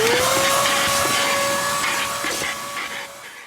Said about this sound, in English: just vacuum the front, the back, wherever you need to go, the trunk